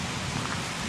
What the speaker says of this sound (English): It just started to rain a bit.